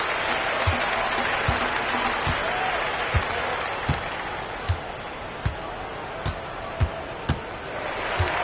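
Arena crowd applauding and cheering after a Lakers win in the NBA 2K25 basketball video game, a steady broad roar with sharp basketball bounces and sneaker-like squeaks thumping through it.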